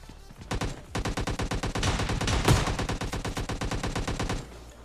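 Rapid automatic gunfire from a PUBG Lite match rattles in a long, loud, evenly spaced stream of shots after a short pause at the start.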